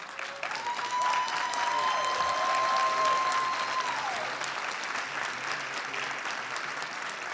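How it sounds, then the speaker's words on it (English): An audience at a scholarship awards celebration claps steadily for several seconds at moderate volume, with the applause holding strong before gradually thinning out. A faint tonal whine runs through the clapping early on. "Please rise for a round of applause."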